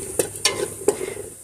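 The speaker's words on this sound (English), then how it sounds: "whisk in our flour slowly" Flour whisked into a roux for potato soup, with three or four quick clinking whisk strokes against the pot over a low sizzle.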